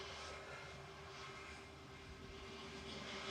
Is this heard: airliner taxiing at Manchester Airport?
yes